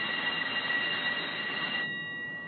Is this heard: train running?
yes